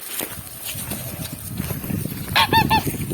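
Domestic geese being taught to fly give a short burst of several nasal honks in quick succession near the end, over rustling, shuffling background noise and faint movement.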